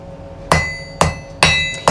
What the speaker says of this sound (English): To say it's your first time that you took a hammer to hot steel, I'd say you're doing very well.